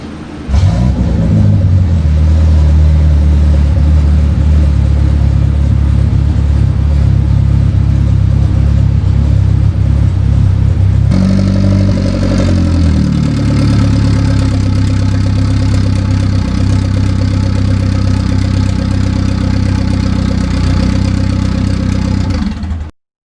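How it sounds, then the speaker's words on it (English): A car engine idles with a steady low rumble, then picks up and keeps running louder and rougher as the car is pulled around in a workshop, continuous and close with no talk. "I'm gonna pull his car around"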